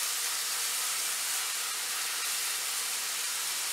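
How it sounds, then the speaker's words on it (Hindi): Ground masala sizzles while it roasts in oil until the oil separates, for chole bhature: a steady, even hiss with no talk over it. "मसाले को तब तक भूनना है जब तक इसका ऑयल अलग होने लगे।"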